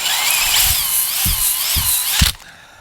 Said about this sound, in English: My drill hung up there. Let's do another pass.